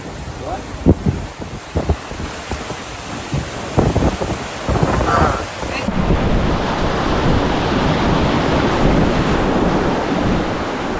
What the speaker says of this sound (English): Look at the water ripping by Celia in the background.